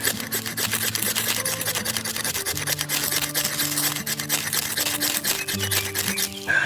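A Lon Humphrey Delta knife blade scrapes against a ferro rod to throw sparks, giving a steady, close rasping rub of repeated short strokes with a faint buzzing tone underneath.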